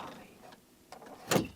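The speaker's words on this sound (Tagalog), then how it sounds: "Bubuksan ko na pinto." A door opens as a sound effect in a Filipino TV segment: quiet shuffling, then a short, loud knock-like clunk of the latch and door near the end.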